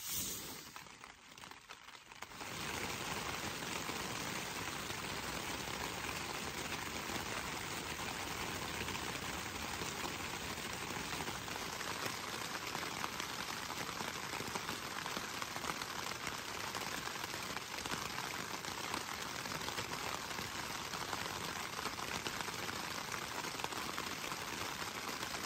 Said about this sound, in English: it is now raining outside, so I'm in the tent